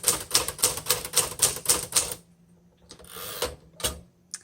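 A 1959 Remington Quiet Riter typewriter clatters through a quick run of about eight evenly spaced keystrokes. After a short pause come a few separate mechanical clunks, close and fairly loud.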